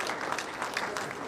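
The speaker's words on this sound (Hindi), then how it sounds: "जोरदार तालियों के साथ इनका स्वागत करेंगे।" Audience at an Idea-thon business event clapping to welcome a winner, a steady dense spread of hand claps at moderate volume with some crowd murmur mixed in.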